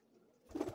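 Black gandedar pigeons in a loft give a short, close, low coo that rises out of quiet background after a brief pause.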